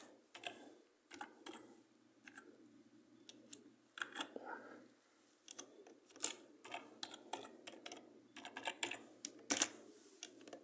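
Quiet, steady typing on a computer keyboard while a chart axis title is entered in an Excel spreadsheet, irregular clusters of close key clicks with short pauses.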